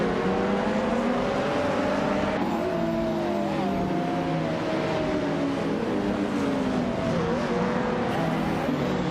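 A 1993 Porsche 911 Carrera RSR races in a video game. Its high engine drone holds steady for several seconds, rising and dipping slightly in pitch as it runs.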